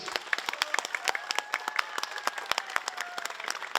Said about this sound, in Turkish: Ona kocaman bir alkış